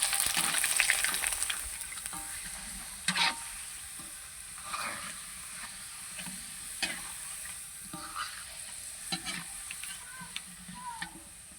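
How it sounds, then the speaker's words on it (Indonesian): Sun-dried cassava crackers (kecimpring) frying in hot oil, a soft continuous sizzle with intermittent scraping and clinks from stirring, fairly quiet and close. "Nah ini lanjut ngegoreng keripiknya ya teman-teman."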